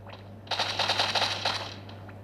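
Rapid bursts of automatic gunfire in the cartoon battle-royale game Sausage Man, a close-range exchange of quick rattling volleys lasting under two seconds over a steady low hum, with no talking.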